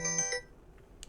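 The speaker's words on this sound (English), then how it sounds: "sorry guys, that was my alarm" A phone or clock alarm sounding indoors: a few quick electronic beeps in a short burst, then fading, fairly close and alone.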